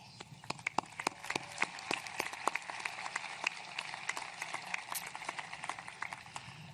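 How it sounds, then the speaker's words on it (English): Scattered hand claps ring out at a high school STEM academy graduation ceremony, sparse and irregular sharp claps from a modest crowd with no voices over them. "I want to give them an applause"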